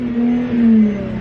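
A car engine revving at a Southern California car meet, a short loud rising and falling rev with a steady droning tone, close by and without speech.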